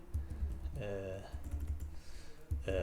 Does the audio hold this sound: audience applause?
no